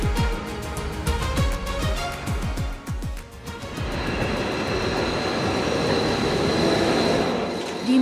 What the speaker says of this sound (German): Jetzt muss erstmal der Zug in Landquart zusammengestellt werden und dazu rangiert das Krokodil aus dem Depot über die Drehscheibe ins Bahnhofsvorfeld.